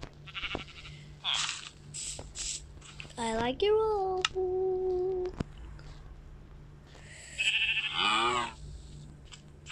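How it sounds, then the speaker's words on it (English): Sheep bleat in the video game Minecraft, a few wavering cries, one drawn out and another near the end, up close amid brief speech and small clicks. "Oh, sheep."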